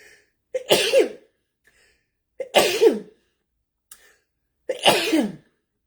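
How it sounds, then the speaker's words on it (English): Three sharp, explosive bursts from a single nearby person, each a sudden breathy blast with a short voiced tail, separated by brief silences. "I'm going to sneeze, excuse me."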